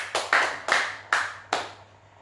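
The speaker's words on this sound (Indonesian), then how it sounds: "Berikan tepuk tangan buat Tuhan kita." Four sharp, evenly spaced claps ring out in a church, each echoing briefly in the hall before the next, with no voices.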